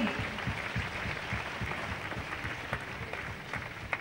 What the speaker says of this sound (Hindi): बहुत जोर से तालियां बजाइए।